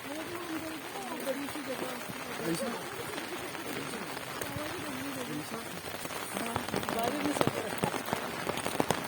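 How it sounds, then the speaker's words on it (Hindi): Steady rain patters hard and continuously on surfaces nearby, heard from under an umbrella in cold weather near Shimla, with a person talking over the downpour throughout. "बारिश बहुत तेज है।"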